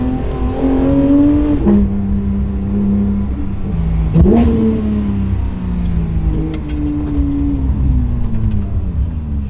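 A Porsche 911 GT3 RS accelerates hard on a bumpy mountain road, its engine revving up through the gears with sharp pitch climbs, abrupt shift drops and loud, close cabin sound.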